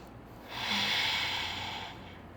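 A single slow exhale during a yoga flow for back ease and mobility, a soft close breathy rush that swells and fades over about a second and a half in a quiet room.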